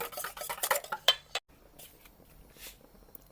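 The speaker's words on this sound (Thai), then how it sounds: "ทุกอย่างเข้ากันดีแล้วนำไปกวนค่ะ" A utensil stirs a black sesame filling mixture in a pot, clattering and scraping busily for about a second and a half before the sound drops to near quiet.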